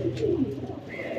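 A single pigeon gives a short, low coo up close, brief and soft with a faint voice in the background.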